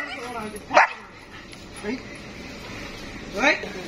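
Dogs bark in three separate bursts spread over a few seconds, fairly close, with people talking in the background throughout.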